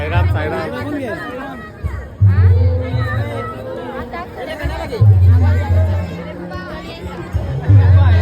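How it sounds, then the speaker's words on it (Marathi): A large crowd chatters in a dense, continuous babble at a Sai palkhi bhandara community meal in Padgha, with louder voices rising in bursts over the steady hubbub. "खूप गर्दी आहे मित्रांनो"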